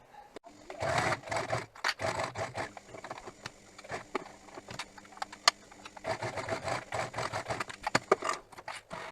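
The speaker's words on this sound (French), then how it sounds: "On va passer une couture au plus près du bord du biais de chaque côté." A sewing machine stitches bias binding close to its edge along an inner right-angle corner, running in steady bursts with short pauses, loud and close, with no talk.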